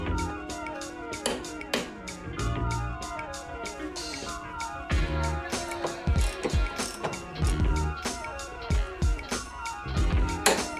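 A torque wrench ratchets in rapid bursts of clicks while tightening rear subframe bolts on a BMW 2002, close and crisp, with metallic taps and pauses between strokes.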